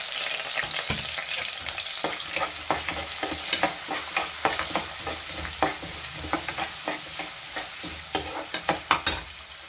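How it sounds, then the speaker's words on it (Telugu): Chana dal, green chillies, onion and garlic sizzle and fry in a pan, broken by a steady run of scraping stirs that grow sharper toward the end, with no voices. "ఇవి బాగా ఫ్రై అయ్యాక పచ్చిమిర్చి, ఉల్లిపాయ, వెల్లుల్లిపాయ వేసుకొని బాగా వేసుకోవాలి."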